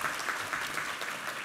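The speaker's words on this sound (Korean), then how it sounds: "우리 하나님께 감사와 영광의 박수 올려드리겠습니다." A church congregation claps together during a Sunday worship service, a steady, dense burst of applause filling the room for a moment.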